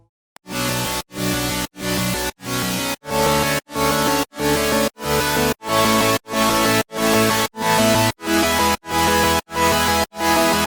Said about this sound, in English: Let's listen to our 3 supersaws together.